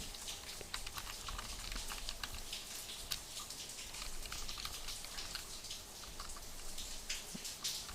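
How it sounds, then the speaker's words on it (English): Rapid, uneven clicking of a computer keyboard continues throughout, close and steady with no one speaking, as someone types code for a web app. "sorry for my typing"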